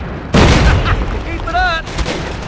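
In a Call of Duty shooting drill, a gun fires at helmets: one loud, close report rings out and fades, and a voice briefly speaks afterward.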